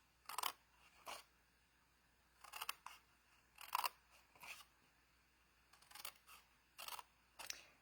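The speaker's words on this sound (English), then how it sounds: "So we're going to cut up on these score lines." Scissors cut along the score lines of a paper craft treat-holder box, making a string of short, crisp snips in irregular bursts, close and quiet.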